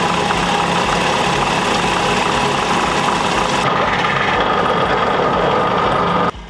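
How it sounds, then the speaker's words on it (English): A drill press bores holes with Forstner bits for speargun roller mounts, producing a loud, dense, steady machine whir with grinding vibration that abruptly drops in brightness partway through, then cuts off at the end. "I decided to cut holes for the rollers using the drill press and some Forstner bits"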